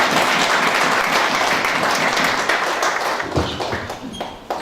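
An audience at a political party's founding convention applauds, with dense, even clapping that holds steady before gradually thinning and tailing off near the end.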